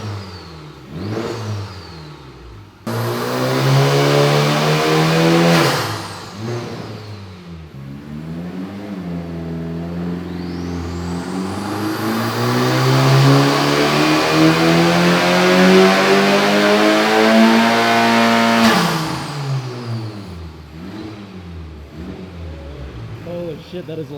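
A Honda Civic Type R FK8 engine revs hard on a dyno, climbing in a long loud pull through the gears before dropping off, with shorter blips at the start and excited voices around it.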